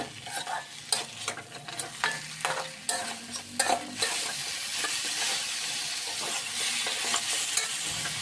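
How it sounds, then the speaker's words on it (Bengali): Large prawns fry in a thick spice paste while being stirred, with scraping strokes of a spatula at first, then a steady, close sizzle and hiss from the pan. "চিংড়ি মাছগুলো উল্টে পাল্টে ভেজেও নেওয়া হয়ে যাবে আর মশলাটা ভালো করে কষানো হয়ে যাবে"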